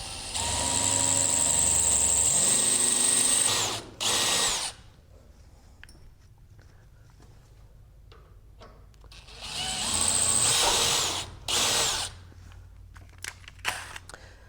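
A power drill bores 4.8 mm holes during a flaperon install on a Zenith CH 750 CruZer aircraft build, giving two loud, close whirring bursts separated by a quieter pause.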